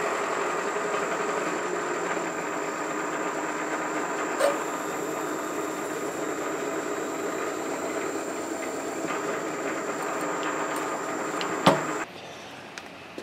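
A machine reams a 1/4 inch hole in metal while building a Hemingway Kit spherical ball turner. Its steady, close mechanical hum runs without a break, with a couple of brief clicks, then cuts off near the end.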